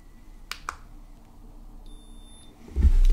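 An infrared thermometer gives two sharp clicks, then a short, thin electronic beep in a quiet room, with a louder thump at the end.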